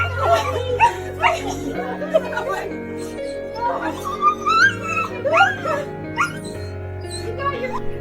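A dog reunited with its owner after 21 apart days whimpers and yips in high, wavering cries, close and loud, alongside laughter and emotional human voices.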